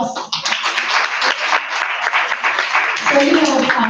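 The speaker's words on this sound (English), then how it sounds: "I'll give her an applause" At a digital women's conference, an audience claps in a brisk, fairly loud burst of many hands for about three seconds, and then a voice begins speaking as the applause fades.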